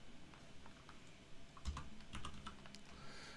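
Quiet, steady keystrokes on a computer keyboard as text is entered into a Word document, a faint run of soft clicks with a few sharper taps and no talking.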